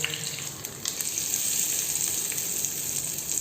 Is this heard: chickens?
no